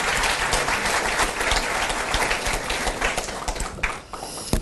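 Loud, sustained applause from a large ceremony audience at a Korean unification ministry inauguration, dense steady clapping for nearly five seconds with a brief dip near the end and no talk.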